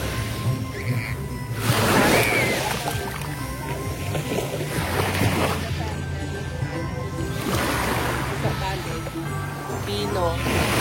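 A boat rides a rough, wavy sea, with a continuous engine drone and water sloshing and splashing against the hull while people talk over it.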